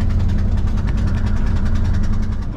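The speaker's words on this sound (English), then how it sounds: "Yeah, we're definitely idling high." A 1982 Ford F-150 302 V8 truck engine, idling high, runs steady and fast with a constant low rumble and a rapid pulsing rhythm, close and loud throughout.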